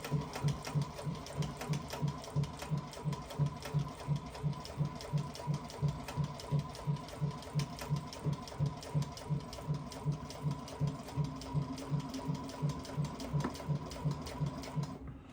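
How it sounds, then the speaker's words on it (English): A sewing machine stitches hunting saddle material for a Tethrd Phantom saddle, running steadily with a fast, even rhythmic chatter throughout, close and fairly loud with no talking. "Now I sew a little bit past it, again, just so I always make sure I have a little bit extra."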